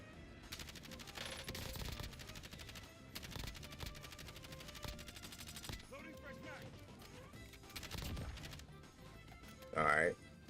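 Gunfire in the video game Warzone, repeated rapid bursts and single shots with crashes, heard under a player's talking, with a loud burst near the end.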